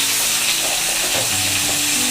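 Pointed gourd, carrot, spiny gourd, potato and pumpkin fry together for a vegetarian mixed-vegetable curry, giving a loud, steady sizzle up close with faint stirring beneath.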